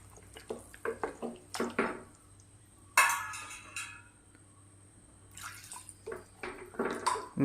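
Water poured into a pot of chicken curry, heard as several short bursts of splashing and liquid trickling at close range, with a stronger pour partway through and quiet gaps between.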